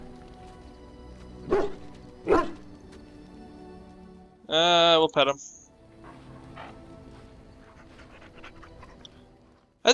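A dog in the video game Dragon Age Origins gives a few short barks and a longer whining, panting burst, with a person talking over quiet game ambience.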